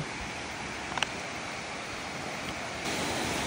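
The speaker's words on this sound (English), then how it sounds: "Lady Barron Falls. Pretty loud." Steady, dense roar of rushing water from Lady Barron Falls at Mt Field, Tasmania, fills the air, loud and unbroken, with a brief faint knock partway through.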